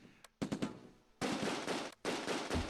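Machine gun fire in the Close Combat II battle for Nijmegen North Bridge, a few short bursts then two long, loud sustained volleys separated by a brief gap, dense and close.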